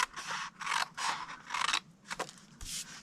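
Scissors cutting 6 x 6 inch patterned paper up to a score line for a Halloween treat holder, a close series of crisp snipping and crunching strokes in quick bursts, with no talking.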